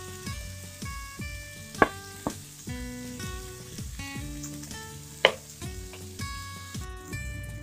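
Chopped tomatoes sizzle softly in a pan while cooking down for paneer bhurji, a faint continuous frying hiss beneath louder tonal music.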